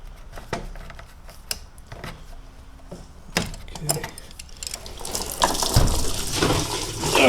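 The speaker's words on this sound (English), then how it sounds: "This will provide us with a nice flow when we disconnect the hose." Coolant pouring out of a disconnected radiator hose on an R53 Mini Cooper S, with clicks and handling noises first, then a rising gush of liquid splashing in the last few seconds.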